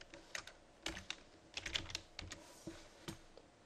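Typing on a computer keyboard, a quick run of light, close key clicks in an irregular rhythm, quiet and alone with no talk.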